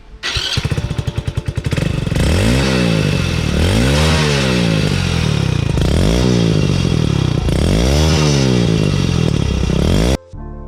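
A Hero Honda Splendor BS6 motorcycle fitted with a Euro 1 silencer starts up loud and close, idles with a thumping exhaust, then is revved repeatedly in rising and falling sweeps before cutting off abruptly.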